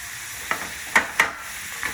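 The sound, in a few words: soy sauce sizzling in a hot frying pan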